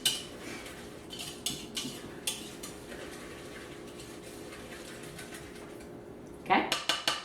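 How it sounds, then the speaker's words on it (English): Oats being stirred into liquid for a baked breakfast, a spoon clinking and scraping against a bowl in repeated light taps with a brief louder clatter near the end, and a voice speaking over it. "so we added in our oats, so I'm going to get this all stirred up here"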